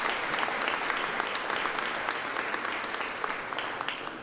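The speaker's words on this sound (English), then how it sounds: "So let's give John a round of applause." An opening-session audience applauds John Nisbet with a loud, dense, sustained burst of clapping from a large crowd that fills the whole stretch evenly.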